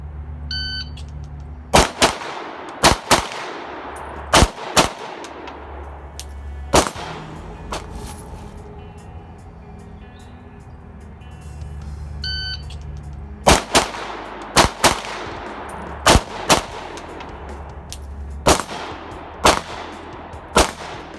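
A rifle fitted with an ALG AKT trigger is fired outdoors, loud sharp gunshots coming in quick clusters of several rounds separated by pauses, with echoes trailing off in between and no talking.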